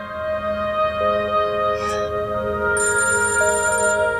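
A steady electronic ringtone plays alone, a layered tonal melody that shifts pitch partway through.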